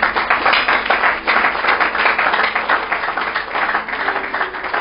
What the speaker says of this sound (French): Acclamons le Seigneur pour ça.